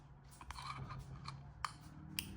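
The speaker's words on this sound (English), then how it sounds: "You cut the top of the wick off." Scissors snip the top off a candle wick, a few quiet, close crisp cuts and scraping rubs spread irregularly over a faint low hum, with no talking.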